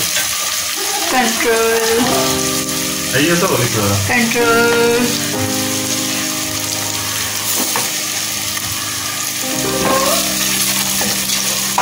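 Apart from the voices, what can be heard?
onion and garlic frying and browning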